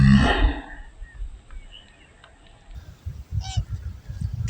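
A single loud honking crane call rings out at the start, then the outdoor scene quiets to faint distant sounds and nearby rustling.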